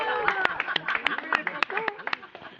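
A small group claps for a host's wife at an awards ceremony held in a private home in Champignolles, scattered hand claps under ongoing talk and chatter.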